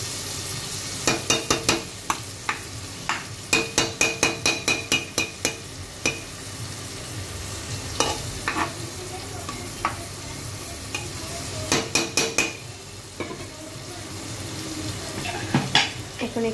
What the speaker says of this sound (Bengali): একটুখানি হালকা করে নেড়ে চেড়ে নেব